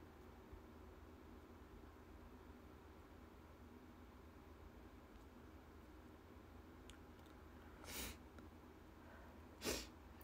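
Quiet room tone, then two short, sharp sneezes a couple of seconds apart, the second slightly louder.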